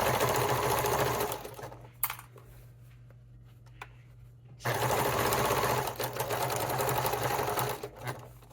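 A sewing machine stitches a stocking seam in a fast, steady, close-up whir, stopping for about two seconds midway before running on again at the same pace.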